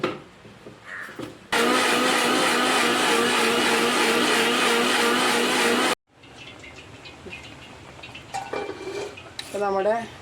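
A mixer grinder whirs loudly and steadily for about four seconds while grinding coconut for a Kerala fish curry, then stops abruptly, followed by quieter kitchen clatter and brief speech.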